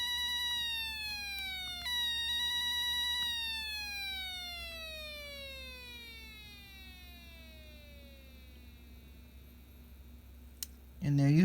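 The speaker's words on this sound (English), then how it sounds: "It kind of sounds like a siren, in a way, that the sound slowly fades out." An electronic siren-like tone from a Snap Circuits light project, with stepped harmonics, glides downward and slowly fades over several seconds, ending with a brief louder burst.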